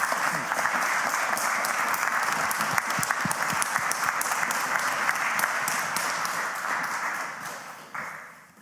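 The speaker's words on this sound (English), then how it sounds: "Could we please have a very warm round of applause for His Excellency Husam Zomlot." Loud, sustained applause from an audience at a Cambridge University talk, welcoming a speaker to the stage, with steady dense clapping that fades slightly toward the end.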